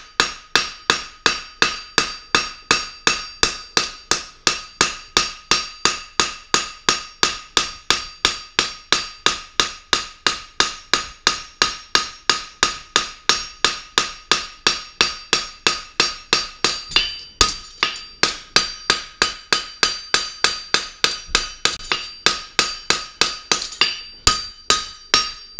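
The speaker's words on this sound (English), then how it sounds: "every time you hit a shoe, your hammer alters the section" Steady, rapid hammer blows ring out on a horseshoe on an anvil, a long unbroken series of sharp, bright strikes at an even rhythm, close and alone.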